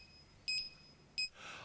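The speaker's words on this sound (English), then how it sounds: "the instrument is calibrated to activate an alarm when the concentration reaches the unsafe proportion for carbon monoxide" A carbon monoxide gas detector sounds its alarm as two sharp, bright electronic beeps about three quarters of a second apart, loud and close, followed by a burst of hiss.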